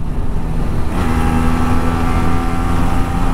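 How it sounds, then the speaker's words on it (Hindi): A motorcycle engine drones steadily and loudly up close while riding, its pitch rising slightly as it picks up speed, with rushing air underneath. "क्या भाग रही है बाइक बॉस"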